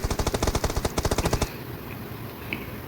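Rapid automatic gunfire in the mobile battle royale game PUBG Mobile rattles off in a tight, evenly spaced burst of about a dozen loud shots, then cuts out, leaving faint ambient game noise behind.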